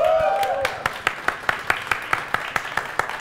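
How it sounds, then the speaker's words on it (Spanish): An audience on a comedy show applauds while a host calls out over it, with distinct claps falling into a steady rhythmic beat that grows more regular toward the end. "señoras y señores. Un aplauso y volvemos."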